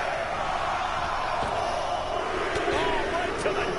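An arena crowd in a PS4 wrestling video game chants a count in unison, a loud sustained roar of massed voices with a few thuds and impacts, under continuous commentary.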